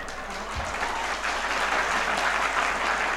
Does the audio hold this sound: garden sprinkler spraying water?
no